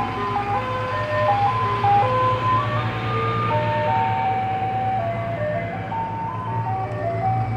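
An ice cream truck plays the Turkey in the Straw jingle in a low pitch. The melody of electronic tones is loud and continuous over a steady engine drone, with no talking.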